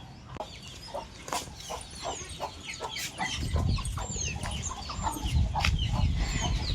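Native country chickens at a caged poultry farm cluck and call in short, repeated bursts, first sparse and then busier, over a low background rumble, with no talk.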